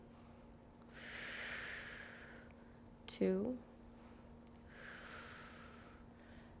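Slow, audible breaths during a mindful yoga pose: a soft inhale and exhale near the start, a brief sharp snort of air in the middle, then another slow breath. The breathing is quiet and close, with a short spoken count.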